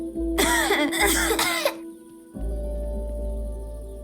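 Woman coughing in the video game 3 Minutes to Midnight: three harsh, close coughs in a quick burst, followed by a steady low hum.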